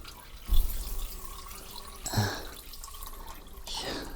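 Homemade wine from freshly pressed Muscat, Isabella and Lydia grapes splashes and drips as it is poured from the press, in a few separate gurgling bursts against a quiet background.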